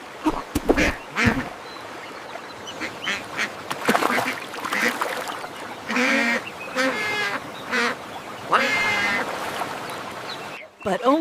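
Cartoon ducks quacking in a children's animated song, a series of nasal quacks and honks scattered over an ongoing musical backing with singing voices, fairly close and lively.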